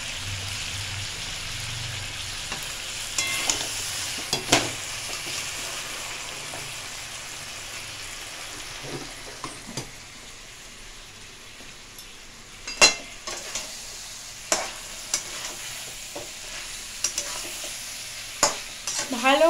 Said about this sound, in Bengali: ভালো করে আমরা একটু নাড়াচাড়া করে নেব।